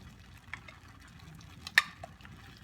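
Stroganoff sauce is stirred in a pan with soft liquid swishes and a sharp spoon tap against the side, close and quiet, with no talking.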